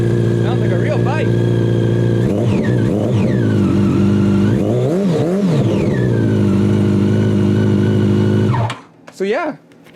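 A Yamaha FZ8 motorcycle fitted with an SC Project exhaust, baffle removed, revs loudly and repeatedly, with deep throttle blips rising and falling over a steady idle before cutting out near the end, followed by a short final burst.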